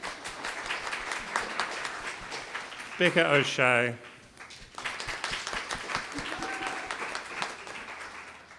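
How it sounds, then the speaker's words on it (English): Brief burst of audience applause for panel speakers at a talk event, rising for about a second amid ongoing speech and introductions. "Round of applause."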